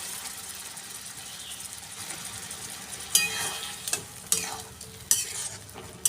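Whisked yogurt stirred into pointed gourd cooking in a pan, a steady low sizzle with several sharp scraping clinks of the spoon against the pan growing louder toward the end.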